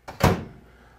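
A kitchen oven door bangs open or shut in a quick two-part clunk, a light knock followed by a heavier thud that fades out, close and alone.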